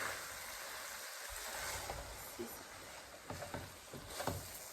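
A fish mixture being stirred in a hot pan, giving a constant sizzling hiss with a few soft scraping strokes from the spoon, heard up close and steady.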